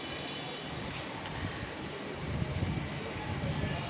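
Gusty wind blows outdoors before rain while clouds gather, a broad steady rushing roar with some buffeting against the microphone that swells toward the end. No one speaks.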